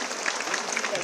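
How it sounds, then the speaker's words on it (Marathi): Audience applause at a public speech event in Maharashtra, with dense, steady clapping from a crowd that fills the whole short moment at moderate loudness. "त्याच्यासाठी पण एकदा जोरदार टाळ्या"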